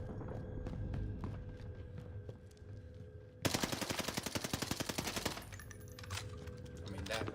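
Rapid automatic gunfire in Call of Duty Warzone, a dense burst of fast repeated shots lasting about two seconds, loud against a busy background of game sounds and softer scattered shots before and after.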